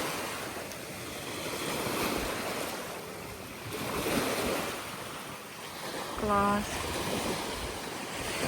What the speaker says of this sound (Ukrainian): Який звук хвилі.